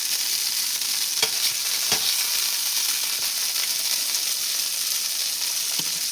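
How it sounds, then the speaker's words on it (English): Chicken breast searing in a hot pan, a steady bright sizzle and crackle throughout with a few sharp pops and stirring clicks, close and alone with no talk. "we're just gonna let that sear keep going"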